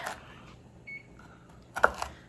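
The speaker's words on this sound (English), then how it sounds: "Wow, that was 10 minutes. My thing beeped already." A kitchen timer gives a short electronic beep while pecan pie bars are being made, amid faint kitchen clatter and a couple of sharper knocks, no voices.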